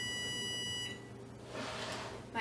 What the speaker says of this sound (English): My oven is preheated. You just heard it beep.